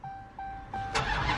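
A Dodge Hellcat engine cranks with a brief whine, then fires into a loud, full roar and settles into a rumbling idle close by.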